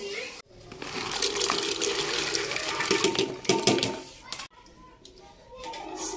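Water pours into a cooking pot of rice, spices and vegetables in a village kitchen, a steady rushing splash for about four seconds that then drops to a softer trickle and stops.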